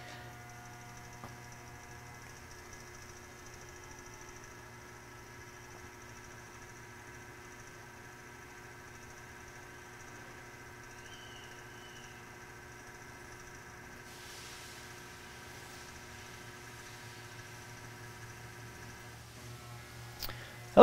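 A dynamic balancing machine spins a flywheel and pressure plate assembly, giving a faint, steady mechanical hum with constant tones that shifts slightly partway through, with no talking.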